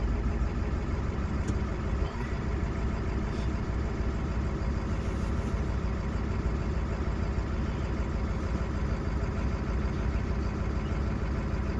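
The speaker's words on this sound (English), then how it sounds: "I don't think she expected me to fire the truck up the way I did" A truck engine at an RV park fires up with a brief jolt near the start, then settles into a loud, steady, rumbling idle that runs unbroken to the end.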